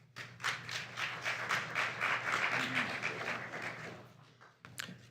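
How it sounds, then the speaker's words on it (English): Audience applauding at a city council meeting, a steady burst of many hands clapping for several seconds in a room, fading toward the end, with no talk. "Quick reminder to please hold your applause."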